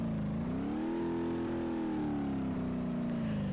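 A 1954 Burnside inline-six car in BeamNG.drive pulling forward from a stop, its engine droning steadily with a rising then easing tone, close and continuous with no talk.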